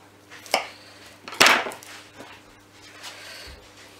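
A knife cuts through a bell pepper on a board in a home kitchen, giving a few separate crisp chops and slices with quiet gaps between them.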